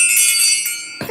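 A bell is struck once and rings loud and close with a bright, shimmering tone that slowly fades, ending in a brief dull knock.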